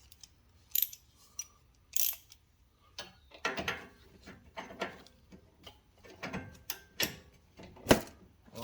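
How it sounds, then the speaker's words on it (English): A ratchet wrench works on a 16mm front sub-frame bolt of a 2007–2017 Jeep Patriot or Compass, with sparse mechanical clicks and metallic clatters, some in quick runs, between quiet gaps. "If not, I'm gonna have to get a ratchet wrench."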